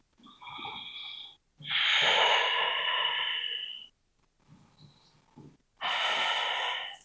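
Loud breathy exhales during a reclined yoga session, three long airy breaths with quieter intervals between, one fading into a brief nasal snort-like sound, close and alone without talk.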